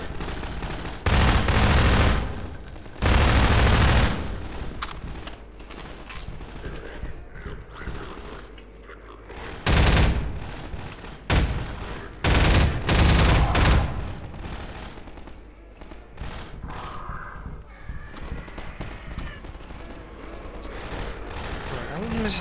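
Gunfire from the Half-Life 2 video game: loud, heavy bursts of shooting alternate with quieter stretches of distant shots and rumble, the firefight continuing throughout amid dense game noise.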